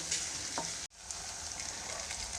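Onion sizzles in oil in a pan as ginger and garlic go in for an aloo curry, a steady hissing fry with faint stirring and a brief dropout partway through.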